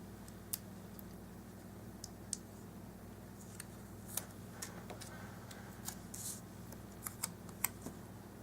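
Scissors snip through sheets of coloured paper in a series of faint, crisp clicks and cuts spread irregularly across a quiet room, with no talking.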